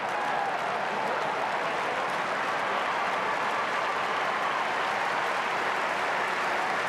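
Sustained applause and cheering from a large stadium crowd at an Australian football match between Fremantle and St Kilda, a steady broad roar lasting throughout with no distinct voices on top.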